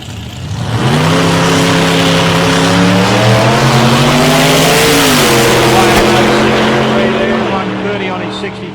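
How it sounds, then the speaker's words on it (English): A 565 cubic inch Chevrolet V8 in a small Ford Cortina drag car makes a solo qualifying pass, its loud engine roaring and revving through rising gear changes for several seconds before fading slightly at the end. "it's a 565 cubic inch Chevrolet engine under the bonnet of this little Cortina"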